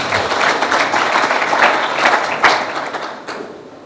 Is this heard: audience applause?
yes